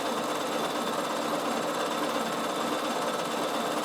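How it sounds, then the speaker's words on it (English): Bernina sewing machine stitching through bulky knitted fabric for a winter hat, a fast continuous mechanical whirr and needle rattle at steady speed, close and alone. "So you can do this on the sewing machine."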